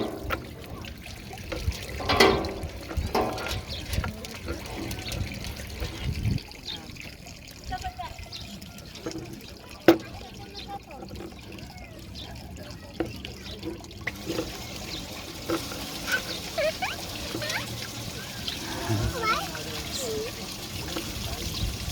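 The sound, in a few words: water being poured out during playground water play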